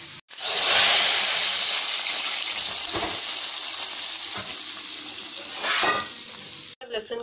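Hot oil with golden garlic hisses and sizzles loudly as it is poured into a pot of cooked lentils, the crackle gradually settling, with a few stirring clinks.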